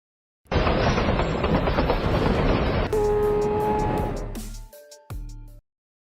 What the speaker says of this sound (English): A car stopped on the railway tracks just as a train approached